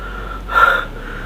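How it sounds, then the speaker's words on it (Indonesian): A single sharp gasping breath, near and fairly loud, lasting a fraction of a second against quiet background hiss, as someone catches their breath after running. "melepaskan napas yang terengah-engah."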